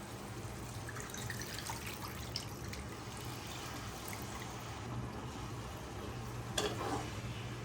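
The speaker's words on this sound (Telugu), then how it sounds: "ఇప్పుడు చింతపండు పులుసు పోసుకోవాలండి" Tamarind extract going into a simmering Roopchand fish curry, a faint steady bubbling hiss with a low hum underneath and a couple of soft splashes and clinks near the end.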